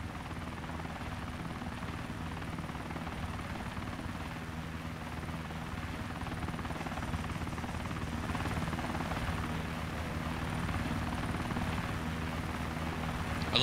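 A helicopter in the video game Arma 3 drones with a steady, continuous rotor roar that holds at an even level and swells slightly toward the end.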